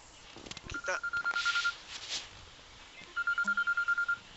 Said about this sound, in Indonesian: Oh iya, soalnya ada telepon.